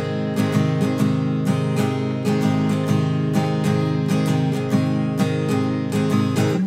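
Guitar strummed in a syncopated, swung pattern, with bright down and up strokes repeating steadily on 16th-note upstrokes and ringing chords sustaining between them, close and without talk.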